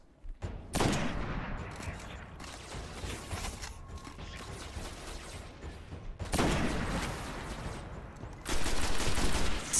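Bursts of rapid gunfire from the video game Destiny, played on PS4, come in loud clustered volleys separated by quieter stretches with mechanical clicks and rattles.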